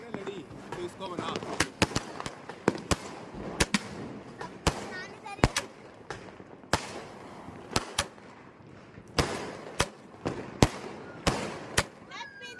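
A 30-shot Diwali firecracker cake bursting outdoors in Delhi, a string of sharp, loud cracks at irregular intervals, some spaced apart and others in quick clusters, while people talk between the bangs.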